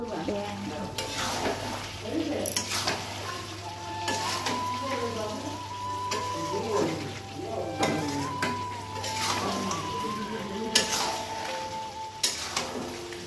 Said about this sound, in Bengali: তো দেখো মাংসটা কত সুন্দর করে কষিয়ে নিচ্ছি।